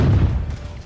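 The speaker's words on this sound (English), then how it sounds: "Set off the confetti cannon." A confetti cannon fires in Crash Bandicoot 4: It's About Time, a deep, muffled boom bursting out and rumbling on as a low, fading thump, heavy in the bass with no voices over it.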